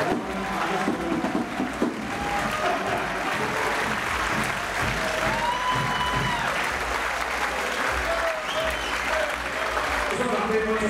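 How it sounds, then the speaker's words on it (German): An audience at a German team wrestling match, Germania Weingarten against VfK Schifferstadt, applauds a team's win in a long, steady, loud burst of clapping, with voices talking over it. "Zeitpunkt, wo man klatschen kann, weil die Mannschaft hat gewonnen"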